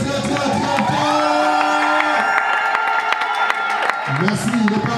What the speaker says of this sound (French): Est-ce qu'on peut les applaudir pour la dernière fois très fort?